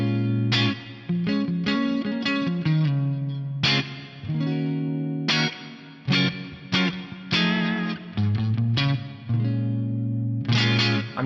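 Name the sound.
electric guitar through Axe-FX Band Commander clean amp, stacked overdrives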